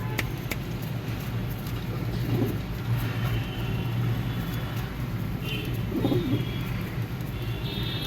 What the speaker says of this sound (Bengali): আমার লাইফের প্রথম কালো পায়রা